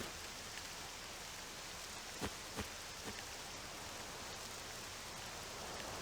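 Steady rain hisses evenly in a dark, diseased town in the video game Octopath Traveler 2, with a few faint tapping drops standing out partway through.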